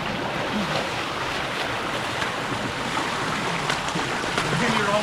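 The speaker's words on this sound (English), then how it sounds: "you climb up in this little waterfall here like Jono" Small waterfall in a lush Trinidad jungle, its steady broadband rush of falling water blended with wind, continuous and fairly close throughout.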